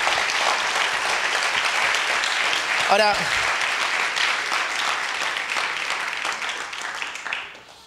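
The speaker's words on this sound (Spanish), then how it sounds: "Lo celebramos con un aplauso." Sustained audience applause fills the hall, loud and even before slowly fading away at the end, with a voice briefly speaking over it.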